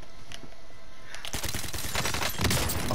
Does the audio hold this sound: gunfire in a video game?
yes